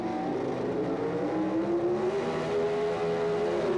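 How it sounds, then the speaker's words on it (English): NHRA Pro Stock drag race cars launch off the starting line, a loud sustained engine roar with rising pitch as the cars accelerate away, steady and close throughout with no talk. "Oh, and what a hole shot for Lombardo"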